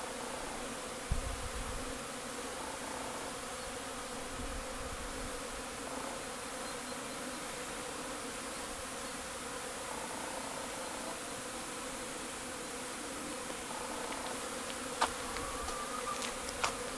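Honeybees buzz at a hive in a dense, continuous drone that holds steady throughout, close and even, with no voices.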